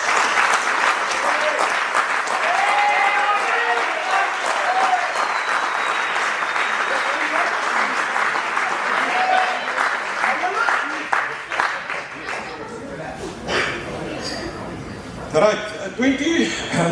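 A club audience gives a long, steady round of applause for Robin, the outgoing season's captain, at an end-of-season gathering. The clapping is dense and sustained, with a few chuckles, and it thins into scattered claps toward the end.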